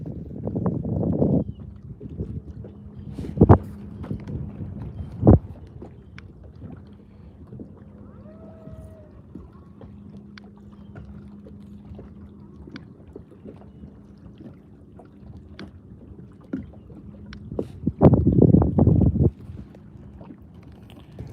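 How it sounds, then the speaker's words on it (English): Wind gusting across a lake during a bass fishing outing, a low steady rumble with louder gusts buffeting the microphone at the start and near the end, plus a few sharp knocks from the boat. "The wind has picked up, so that's changed on me a little bit."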